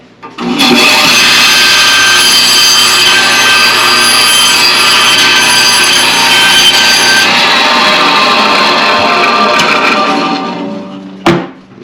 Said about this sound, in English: if you don't have a bandsaw or anything like that, you're going to have to use a handsaw to do this